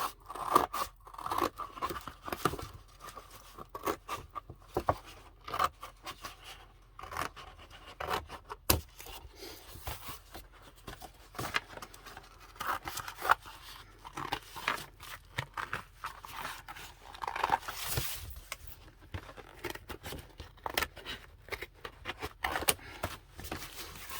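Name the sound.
cutting package sides with scissors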